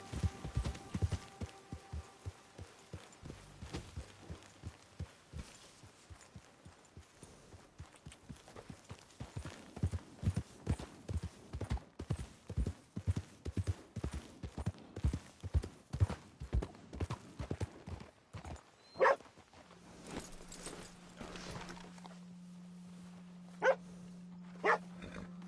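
Horse hooves clip-clop in Red Dead Redemption 2, a loud, evenly spaced gait that slows and stops near the end, followed by a few sparse sounds and a low steady hum.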